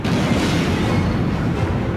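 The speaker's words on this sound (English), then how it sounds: "Lock onto a bandit and destroy it with a missile." A missile striking an enemy jet in the PSP game Ace Combat: Joint Assault, a loud, dense rumbling explosion that fills the whole moment with a steady roar and no voices.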